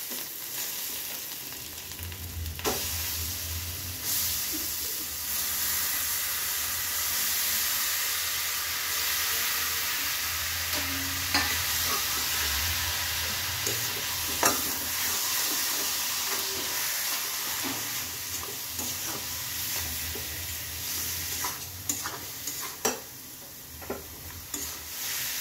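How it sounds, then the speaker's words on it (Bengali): Chopped bottle gourd tossed into oil with fried turmeric and spices for a prawn curry, sizzling steadily and loudly close up, with scraping stir strokes and clatters throughout and no talk. "মশলাটা আমার ভালোভাবে ভাজা হয়ে গেছে, এখন আমি লাউটা দিয়ে দেব।"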